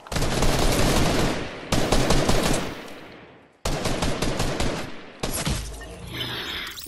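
Automatic gunfire in a video game on a creative map, loud and close, coming in several sustained rapid-fire bursts separated by brief pauses, with no talking.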